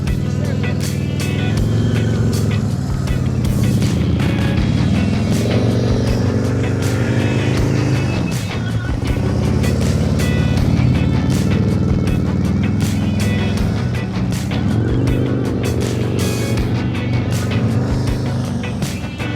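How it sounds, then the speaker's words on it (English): A motorbike engine runs steadily with the throttle held open during a riding practice session, a loud sustained drone whose pitch dips and climbs as the bike passes, with no talk over it. "Keep that throttle up."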